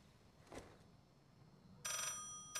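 A telephone rings in the Black Ops 6 campaign, two bright electronic trills arriving late in the clip after a quiet stretch, clear and fairly close.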